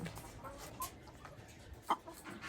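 Chickens on a hot-weather poultry farm cluck softly in short scattered calls, with one sharper squawk rising near the end over low barn background noise.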